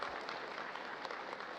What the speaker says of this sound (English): A well-deserved round of applause for the outgoing Chief of Staff, General Andres Castor Centino.